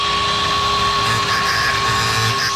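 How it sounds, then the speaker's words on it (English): An angle grinder runs steadily at close range, a loud continuous high-pitched whine with a constant tone and no pauses, heard alone without talk. "I have the angle grinder out?"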